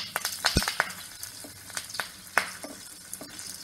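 Hing and curry leaves sizzle in hot oil for Tirumala puliyogare, a close crackling fry with sharp pops and spits breaking over a steady hiss, one loud burst standing out early.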